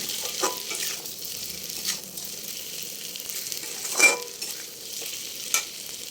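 Eggs frying in a pan, with a soft, steady sizzle broken by a few brief stirring scrapes spaced across the clip, close and fairly quiet, with no talk.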